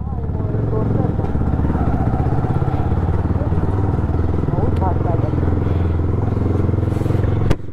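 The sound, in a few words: motorcycle exhaust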